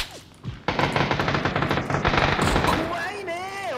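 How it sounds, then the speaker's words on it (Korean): Continuous rapid automatic gunfire in a video game rattles loudly throughout, with voices talking over it and a rising whistling sound near the end. "총소리 난데?"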